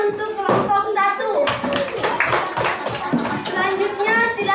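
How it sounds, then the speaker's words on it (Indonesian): A school class claps for a student group in a classroom, a short, uneven burst of hand clapping mixed with children's voices and chatter throughout. "tepuk tangan untuk kelompok 1"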